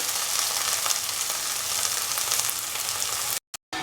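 Shallots sauté in a pan for a coconut stew, giving a loud, continuous hissing sizzle with fine crackles throughout that briefly cuts out near the end.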